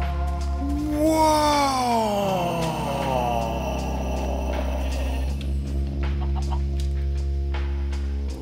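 Chicken clucking and squawking in the Minecraft video game, a loud rising call followed by repeated clucks over a steady game background, with no talk.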